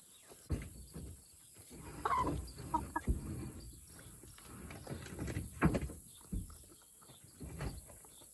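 Rooster crowing and clucking on a farm by a garden and chicken coop, several short calls at mid distance over steady outdoor background noise, with brief breathy sounds between them.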